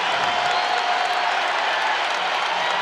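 A basketball arena crowd at a college game between South Dakota State and Nevada roars and applauds in a dense, steady wash of cheering that fills the whole moment without letup.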